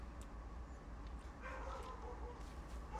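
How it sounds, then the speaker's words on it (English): Dog barking in the Train Sim World 2 video game, a few short yips and barks heard faintly over steady low rumbling train ambience. "He's such a barky dog."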